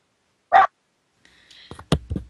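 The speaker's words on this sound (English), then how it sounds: "I have a dog barking" A single sharp dog bark sounds in a quiet room, followed after a pause by soft rustling and a few brief, faint sounds close to the microphone.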